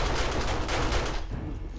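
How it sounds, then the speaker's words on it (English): Guns shooting zombies in 7 Days To Die, a dense, rapid rattle of gunfire heard from nearby that thins out toward the end. "You can hear the rest of the zombies being shot down below"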